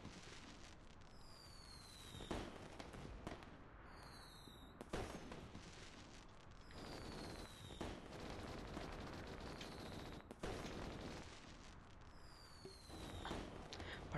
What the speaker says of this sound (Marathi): फटाके खूप फुटतात, बाकी काय हो.